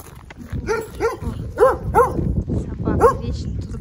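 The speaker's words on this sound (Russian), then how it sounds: "Собака вечно тут гавкает." An aggressive dog barks several times in quick succession, fairly close, with a rough, loud bark at a street spot near a shop, mixed with some background noise.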